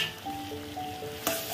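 Mustard paste masala with salt and turmeric sizzles gently in a pan over low flame, a soft continuous frying hiss with a faint stirring scrape near the end.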